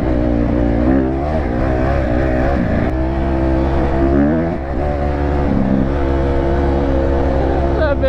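Supermoto motorcycle engine running off-road, loud and close with a steady uneven drone that wavers and dips as if starved of fuel, continuous throughout with a voice faintly over it.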